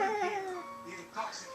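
A frightened cat lets out a drawn-out, wavering yowl that slides downward, close and moderately loud, with a person's voice mixed in.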